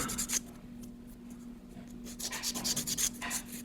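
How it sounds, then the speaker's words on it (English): Steady scratchy rubbing of sandpaper on a small plastic part of a Space Marine Storm Speeder model, sanding it flat in quick back-and-forth strokes close by, with a faint low hum underneath. "Now we'll give it a good sanding to make sure they're nice and flat."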